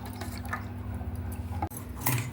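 Water is poured into a pot of thin tomato sambar at home, a close, dripping, splashing trickle with a brief break before a final splash.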